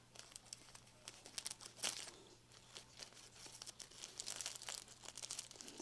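Close crinkling and crackling of a thin plastic plant pot being cut with scissors and peeled, with irregular snaps and rustles over a faint steady hum.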